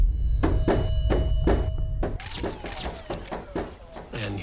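A strange knocking sounds as a run of four evenly spaced hollow knocks, followed by a quicker, denser cluster of thumps with voices talking over them.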